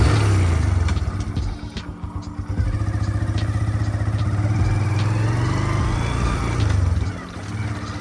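Hero Ignitor 125 motorcycle being ridden, its engine droning steadily and close with small rises and dips in revs and a clattering rattle throughout, no talk.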